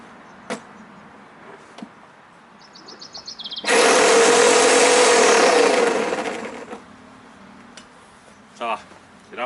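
An electric lawn mower motor runs with its blade removed, whirring loudly for about three seconds before spinning down, with quieter handling clicks before and after.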